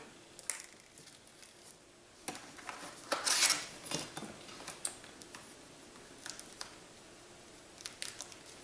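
A small foldable spork from a French individual combat ration is unfolded, giving a few faint plastic-and-metal clicks and light rattles amid packet rustling, with one brighter clatter near the middle.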